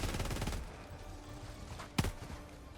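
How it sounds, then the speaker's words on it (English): Gunfire from automatons in Helldivers 2, a rattling automatic burst at the start that fades into distant background noise, then one sharp, louder shot or impact about two seconds in. "Oh boy, a lot of bullets."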